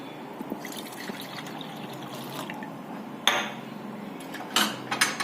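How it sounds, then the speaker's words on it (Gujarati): Cold water is poured into a glass for a lemon ginger drink, with faint trickling followed by a couple of louder, brief splashing pours near the end. No one speaks. "સૌ પ્રથમ આપણે 1 ગ્લાસ ઠંડુ પાણી લઈશું."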